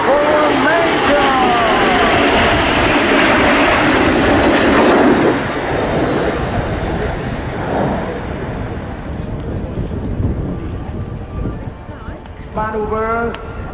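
Patrulla Aguila jets roar overhead in formation at an air display at RAF Fairford, a loud broad rush that fades gradually, with a public-address announcer talking over it near the end.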